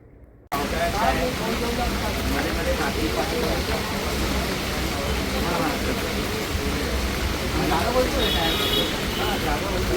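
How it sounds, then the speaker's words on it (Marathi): Heavy monsoon rain pours loudly and steadily around a new Grand Vitara car, a dense constant roar that starts abruptly after a brief quiet moment and continues unbroken. "आता खूप पाऊस पडतो आहे"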